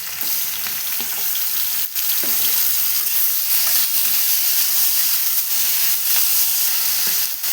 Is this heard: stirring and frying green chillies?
yes